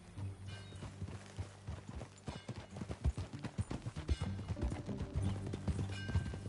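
Horse hooves clip-clop in a steady galloping rhythm as a rider travels in Red Dead Redemption 2, close and fairly quiet, with faint background ambience and no talking.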